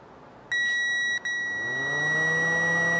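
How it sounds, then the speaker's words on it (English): A new radiator cooling fan motor for a 1999 Acura Integra is tested on the bench. After a short beep it whirs up steadily, its pitch climbing as it spins up, close and alone. "We've put our new fan motor on, and we're going to check it before we put it back in."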